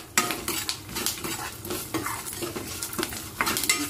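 Asafoetida tempering sautéed in a pan: steady sizzling overlaid with repeated scraping and clinking of a spoon against the metal, close and fairly busy throughout.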